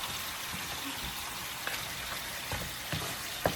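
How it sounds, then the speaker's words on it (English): Oxtails browning in hot vegetable oil in a pot, a steady dense sizzle and crackle throughout with a few faint clinks, close and moderately loud. "now I'm just gonna put them in here just so I can start getting them brown, to brown them"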